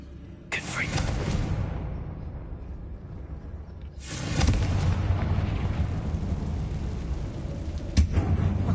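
Confringo fire spell from Hogwarts Legacy set off inside an abandoned mine, two heavy booming blasts a few seconds apart, each trailing a long rumbling decay, with a sharp crack near the end, loud and close.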